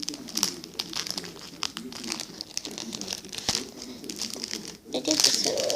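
Paper packaging being folded makes soft crinkles and crumpling rustles in irregular bursts, growing louder and busier near the end.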